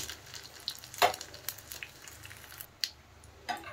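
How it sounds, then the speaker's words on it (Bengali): Whole spices tempering in hot oil for vegetarian Gobindobhog rice khichdi, with soft crackling and scattered pops and spatters over a low steady background, close and moderately quiet. "ফোড়নটা একটু ভালো করে ভেজে নেব।"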